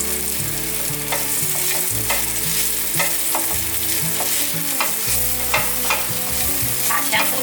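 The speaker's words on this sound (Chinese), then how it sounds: "把香菇角炒香。" Shiitake mushroom pieces and ginger slices stir-fried in hot oil in a wok, a continuous close sizzle with repeated scraping strokes of a spatula, steady and loud with no talking.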